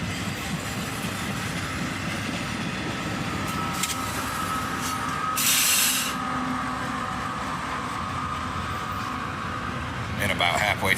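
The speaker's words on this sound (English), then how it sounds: "A southbound intermodal train, still on track 2." A southbound intermodal freight train carrying containers rolls past on track 2 with a continuous loud rumble and wheel clatter, with bursts of hissing or squealing at intervals.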